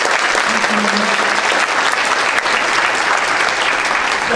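A crowd at a political candidate forum applauds with dense, steady clapping that fills the whole stretch, close and fairly loud, with no pauses.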